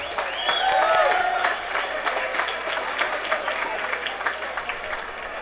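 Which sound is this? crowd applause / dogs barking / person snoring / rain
crowd applause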